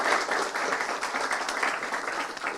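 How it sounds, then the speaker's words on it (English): An audience at a policy discussion on Indo-Pacific strategy gives a round of applause: steady, dense clapping from many hands that fills the room evenly and stays loud throughout, with no voices on top. "please give a round of applause to Mr. Richard Tibbels and Dr. Dino Patijala"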